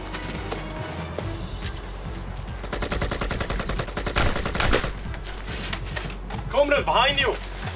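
Rapid automatic gunfire in a video game, a dense burst of repeated shots in the middle with scattered single shots and game sounds around it, close and loud.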